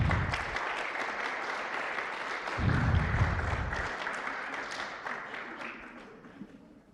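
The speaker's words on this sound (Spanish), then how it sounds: "Un aplauso, por favor." Applause from an audience at a presentation on election statistics, steady clapping from a room of people that holds briefly, then gradually tapers off.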